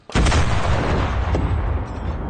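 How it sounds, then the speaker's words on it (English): Artillery shell from an 88 gun striking the ground in the World War II shooter Enlisted, a single sharp loud boom followed by a rumbling decay that lingers for about two seconds, with no voices. "It looks like the shell's just hitting the ground."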